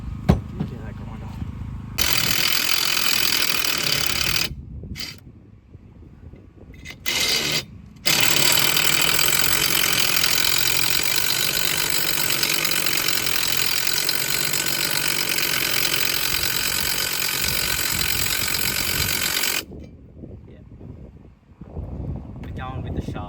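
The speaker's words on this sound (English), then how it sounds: "Let me get that grinder." A bench grinder sharpens a tool during suspension work with top links and springs, a loud, harsh grinding roar that runs in bursts, breaks off briefly, then continues steadily for about twelve seconds before stopping.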